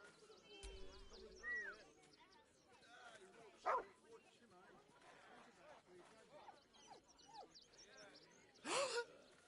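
A dog in a video game barks in short yips and whimpers among game character dialogue, with a couple of sharper bursts standing out over the talking.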